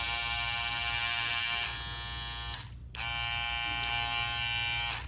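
A gold Wahl Detailer hair trimmer runs close up with a steady high-pitched electric buzz that cuts out briefly and then starts again, heard alone.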